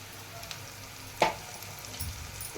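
Spices with curry leaves, mint and turmeric sizzle quietly in a pan, with one sharp clink of a stirring spoon partway through, close but faint.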